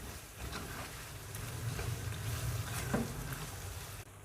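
Chicken cubes with salt, black pepper and spices frying in a pan for restaurant-style chicken fried rice, a steady moderate sizzle with occasional stirring scrapes, no voices.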